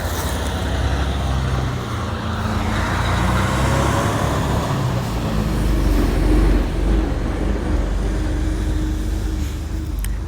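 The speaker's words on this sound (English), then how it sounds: "I'm gonna let this truck go by real quick." A truck rolls past on a road, a broad rumbling roadway noise that swells and fades gradually over about ten seconds, close and loud with no talking.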